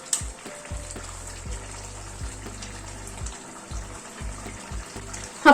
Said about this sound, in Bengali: বড়াগুলো একটু ঝোলের মধ্যে ডুবিয়ে দিচ্ছি।